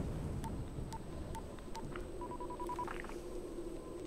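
A telephone in the zombie game Dying Light gives a series of short electronic tones, evenly spaced at first and then in a quicker run. They sound over a low background rumble with no talk.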